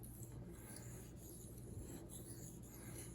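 Steady, even rubbing and rasping of a knife blade stroked back and forth on a budget THLEITE splash waterstone, close and continuous with no talk.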